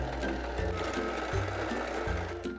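A Singer Start 1306 sewing machine stitches a zigzag, a close mechanical whir with rapid rhythmic needle thumps and two short pauses where the motor stops and restarts.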